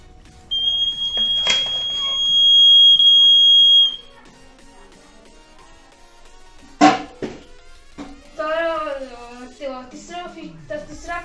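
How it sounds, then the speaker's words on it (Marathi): Piercing electronic buzzer of a water-level alarm on a school science model water tank, sounding steadily for a few seconds, followed by people talking nearby. "याच्यामध्ये आपण पाणी टाकलं तसं बजर वाजेल"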